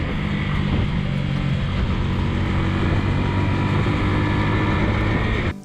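A steady, droning engine of a small 125cc motorcycle on the move, with continuous wind and road noise, no talking.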